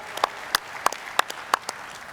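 Scattered handclaps from a Bitcoin 2022 conference audience: a handful of sharp, separate claps at roughly even intervals over a quiet room, sparse rather than a full ovation.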